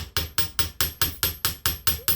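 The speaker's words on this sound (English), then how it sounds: "All we're doing is just giving them a little hammer." A chasing hammer flattens the curved ends of jewelry wire on a steel bench block, about nine sharp metallic taps in a steady, even rhythm, close and clear with no talking.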